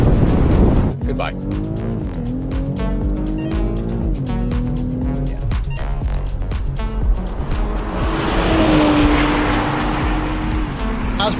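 Turbocharged SUVs, a Mazda CX-90 against a BMW X5 and a Mercedes GLE, launch in a drag race. Engines rise through rising gear pulls and shifts, then fade into the distance as tire and road noise swell, with voices shouting over the start.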